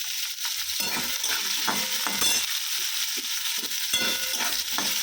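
Dried red chillies, green chillies and spices fry in hot tempering oil for a vegetable curry, with a steady sizzle broken by repeated scraping stirs of a spoon against the pan.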